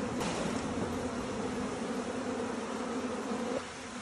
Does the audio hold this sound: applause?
no